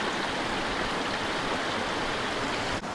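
A stream flowing into a small pool just above a waterfall in Litchfield, a steady, loud, broadband rush of water that holds constant throughout.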